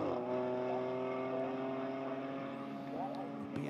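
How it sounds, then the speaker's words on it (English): GT race cars, including a BMW and an Aston Martin, run at Road America in GT World Challenge America, their engines droning steadily with rising and falling pitch under continuous commentary. "BMW does seem to have pretty equal speed, at least, to the Aston Martin there, even though Michael's got a bit of a roll g"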